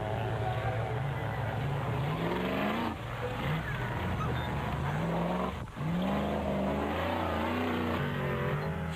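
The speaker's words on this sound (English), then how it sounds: "Right behind them and closing in fast were Boerta and Swart in the Santon Off-Road Accessories Raceco" Off-road race trucks roar and rev in a desert race, engines droning loudly and continuously with rising and falling pitch, under a narrator's voice.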